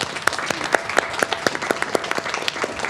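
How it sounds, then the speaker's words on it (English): A board of education meeting audience applauds: a modest crowd clapping in a fairly even rhythm, individual sharp claps standing out clearly and close, steady throughout. "let's give them a round of applause anyway"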